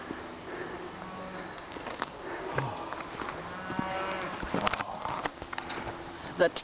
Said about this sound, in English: The cows are taunting us.